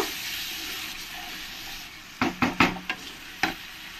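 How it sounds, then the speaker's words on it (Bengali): A spoon stirs chicken curry with turmeric and salt in a pan, a home-style country chicken curry with potatoes. A soft sizzle runs underneath, then five quick, close scrapes in an uneven rhythm. "এবার আমি এর মধ্যে 1 চামচ হলুদ আর 1 চামচ লবণ দিয়ে দেব, দিয়ে ভালো করে আমি নেড়ে দেব"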